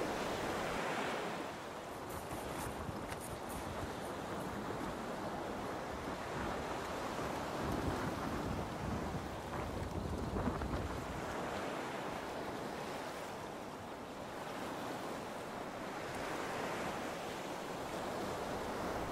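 Steady wind and rushing waves surround a sailboat tacking toward an anchorage off Martinique, a continuous broadband wash with gusty swells and no voices.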